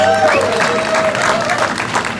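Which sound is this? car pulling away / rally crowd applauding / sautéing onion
rally crowd applauding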